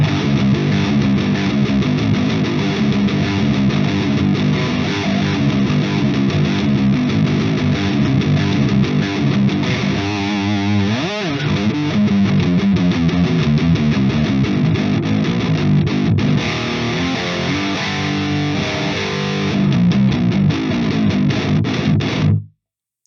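Electric guitar played through an Orange Dark Terror amp with a Fortin 33 boost pedal, giving a thick, heavily distorted tone. The playing is loud, steady and continuous, chugging throughout with no talking.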